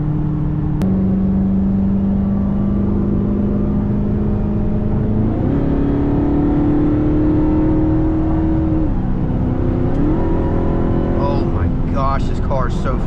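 A Dodge Challenger Hellcat Redeye Jailbreak's supercharged engine drones loudly from inside the cabin, rising through gears with shifts and a building whine, steady and close throughout, with a voice briefly heard near the end.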